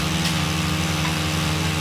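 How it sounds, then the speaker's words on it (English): Steady, loud engine drone of a pole chainsaw cutting low-hanging branches outdoors during yard work, running continuously at a constant pitch with no breaks and no talking. "got his chainsaw on a stick, and he's cutting low-hanging branches"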